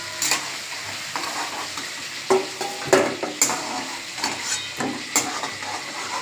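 Eggplant pieces being stirred and lifted out of sizzling hot oil in a pan, with steady frying crackle broken by several scraping and clinking utensil strokes, close and moderately loud.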